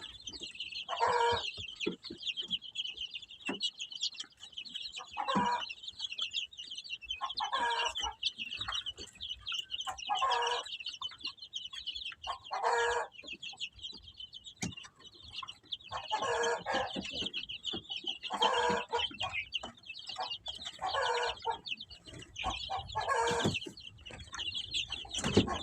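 Chickens and young chicks cluck in repeated bursts, fed with cottage cheese and semolina porridge; steady high chirping runs underneath, with clucks recurring every couple of seconds, fairly close and moderately loud, no talking.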